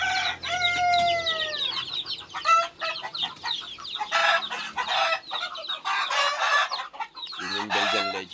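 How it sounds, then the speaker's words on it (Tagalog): A Belgian Leggy hen clucks in a farmyard with other chickens calling around her, giving repeated close clucks and squawks in uneven bursts along with a drawn-out crowing-like call near the start. "Yun yung Belgian Leggy ko na inahin."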